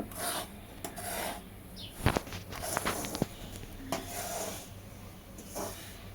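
Semolina (rava) being stirred as it roasts in a pan for karanji, giving irregular dry scraping and rasping strokes with a few sharper clicks of the spoon against the pan, close and fairly quiet.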